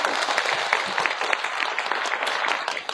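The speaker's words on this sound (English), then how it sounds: "They're clapping their hands because now it's time for them." A film premiere audience in Beijing claps hands, a lively crisp patter of many hands with scattered sharper claps, sustained and fairly near throughout.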